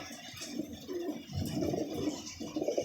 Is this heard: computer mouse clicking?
no